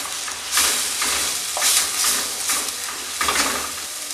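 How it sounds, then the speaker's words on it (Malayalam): Sardine and mango curry masala is stirred in a sizzling pan, a spoon scraping in repeated strokes over a steady frying hiss, close and alone without talk. "ഇതൊന്നിങ്ങനെ മിക്സ് ചെയ്ത് കൊടുക്കുക"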